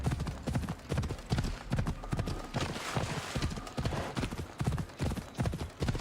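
Hooves of a galloping horse in Assassin's Creed Odyssey's Fate of Atlantis beat in a continuous, driving rhythm, near and prominent throughout, alone without speech.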